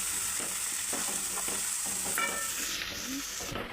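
Turmeric being stirred into prawn curry masala in a hot pan: a steady close sizzle with repeated scraping strokes of the spoon, no voices.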